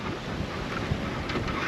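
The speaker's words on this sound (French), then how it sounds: "le vent forcit" Steady wind buffeting a microphone aboard a sailboat under genoa alone in strengthening breeze off Sicily toward Italy, a continuous broadband rush with faint water noise and no talk.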